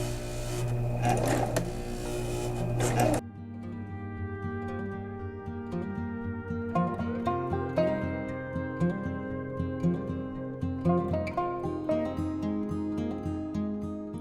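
Sewing machine stitching wire onto a buckram hat, a steady whirring run after an opening burst, with short bursts and pauses that suggest back-and-forth reverse stitches, close and clear with no talk.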